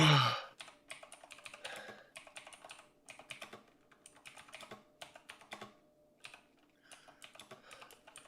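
Quiet bursts of typing on a computer keyboard, irregular clusters of soft clicks with brief pauses between them, close and without talk.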